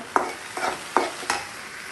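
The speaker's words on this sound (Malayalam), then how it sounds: "അപ്പോൾ ഉള്ളിയൊക്കെ മൂത്ത് വന്നു" Chopped onions browning in a frying pan, with a steady sizzle broken by four distinct stirring strokes, close and moderately loud, and no talk.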